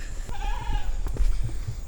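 A goat bleats once along a mountain hiking trail near a trail station: a short, wavering nasal call rising over the steady outdoor background, moderately close, with faint rustles afterward.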